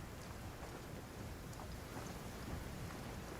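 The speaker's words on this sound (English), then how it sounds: "Yeah, Teyo's gotta go on a quest in real life to stop the rain." Steady rain falls outside with faint thunder, a dense, even hiss heard at low level with no talking.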